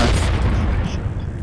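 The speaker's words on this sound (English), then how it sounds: "Holy crap, that blew the whole thing up." A tracer core explodes in The Lab VR game with a loud, close boom that fills the moment and then rumbles away.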